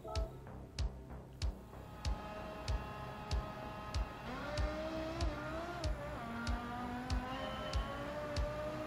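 A race car engine in Gran Turismo 7 drones steadily under a sharp, evenly spaced ticking, its pitch climbing and dropping as it revs through gears, loud and close with no talk.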